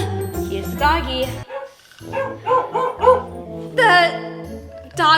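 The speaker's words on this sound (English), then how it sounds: "dog barking was his ringtone" A dog-bark ringtone plays on a phone, bright repeated bark-like tones in short bursts, mixed with people talking close by.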